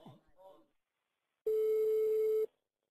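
A telephone gives one long steady electronic ring tone lasting about a second, clear and alone, after a brief burst of speech.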